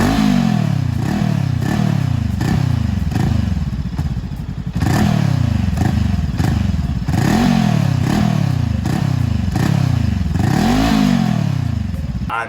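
Voge DSX 500 adventure motorcycle with a QJ Motors engine revving hard and accelerating up through repeated gear changes, its loud, close engine note climbing and dropping in a steady rising-and-falling pattern.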